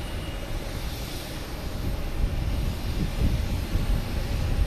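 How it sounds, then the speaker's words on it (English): An Aer Lingus airliner at Boston Logan Airport, a continuous low engine rumble and roar that builds slightly as it moves, steady and moderately distant, with no talking. "We have another Aer Lingus coming around the corner."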